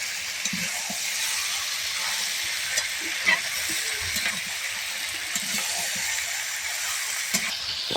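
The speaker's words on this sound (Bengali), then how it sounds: "ভাজা আলুটা মাংসের সাথে এবার দিয়ে দেওয়া হলো, দিয়ে আরও ভালো করে এর সাথে কষতে হবে।" Meat curry with fried potatoes being stir-fried in a pan, a constant hissing sizzle with occasional scraping and knocks of the spatula, no one talking.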